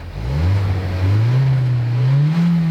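MG HS engine revving through its twin exhausts, a loud, close, low drone that rises in pitch and holds steady with no one talking.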